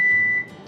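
A kitchen oven beeping once it has preheated, a single loud steady electronic tone lasting under half a second, then quiet room sound.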